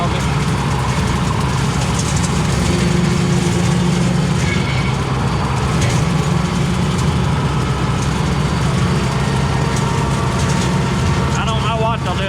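Tractor running a King Kutter 6 ft rotary mower over uneven ground, a loud continuous low engine drone throughout, with someone speaking over it.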